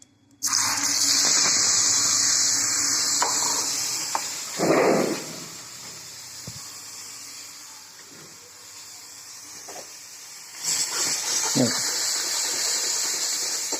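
Onion, garlic and ginger gravy paste fries in a pan, making a steady broad hiss and sizzle throughout, with brief bursts and clatters at intervals; speech is heard only faintly.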